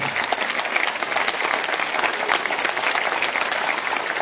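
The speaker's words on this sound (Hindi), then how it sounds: "पाकिस्तानियों के लिए ताली।" Crowd at a Pakistani political rally clapping loudly, a dense, continuous roar of applause with mixed shouts, steady and close throughout with no pause.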